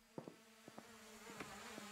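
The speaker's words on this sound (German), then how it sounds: "Oh, der Bienenschwarm kommt wieder." Bee swarm buzzing in the video game Animal Shelter, a steady low insect drone broken by several short rising buzzes that come and go, fairly faint, with no talking.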